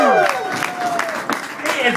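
Live audience at a stage show clapping and whooping, a dense burst of applause with high excited cheers layered over it, loud and close throughout.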